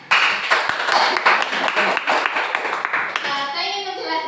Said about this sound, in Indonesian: Aplaus untuk Pak Supiano ya.